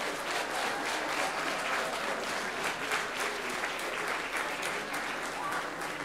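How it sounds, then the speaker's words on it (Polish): Audience applause for participants at a small theatre and film forms competition awards ceremony, a full, sustained round of clapping from a roomful of people, steady and even from start to finish. "Brawa jeszcze dla wszystkich uczestników."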